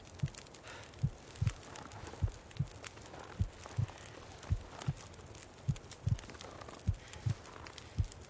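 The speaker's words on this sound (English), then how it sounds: "Oh, the heart pounding." A heartbeat pounds in The Long Dark video game, with steady low thumping beats at an even rhythm, paired double pulses repeating throughout over a faint background.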